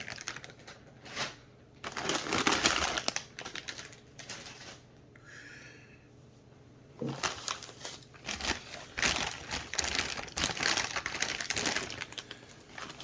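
A plastic bag of alchemy supplies crackles and crinkles as it is handled and cut open at a crowded table, with bursts of rustling separated by a brief quieter pause.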